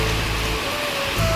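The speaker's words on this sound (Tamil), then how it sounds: "காலையிலேயே இவ்வளோ மழை பெய்யறதுல சொல்லப்போனால் ஜாஸ்தி தான்" Heavy morning rain pours steadily in a dense, loud hiss that fills the moment without a break, with no voices.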